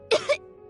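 A sick boy in a Genshin Impact game cutscene gives two quick, close coughs in a row, the second a little softer, with quiet room tone after.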